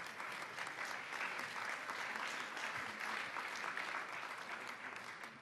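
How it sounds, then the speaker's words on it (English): Audience applause in the ECOSOC conference chamber during a senior-level meeting, a steady sustained wash of clapping from a large room, heard alone without talk. "we can give them a round of applause as they do that."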